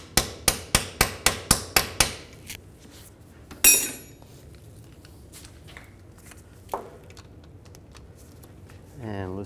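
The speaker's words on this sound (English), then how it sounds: "I'm going to hammer these on a little bit." Seven sharp hammer blows ring out in quick even rhythm on rusty rear axle parts of a 2000-2006 GMC Yukon, followed by a louder clank, quieter tool knocks and a brief voice.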